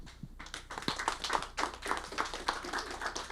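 A small audience of couples claps at a live comedy show, with scattered hand claps forming an uneven, moderately loud patter that carries on steadily.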